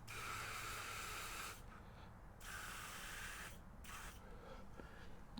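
An aerosol cleaner hisses in three bursts into a Mercedes idle control valve, each a second or so long, separated by brief pauses. The spray is close but soft.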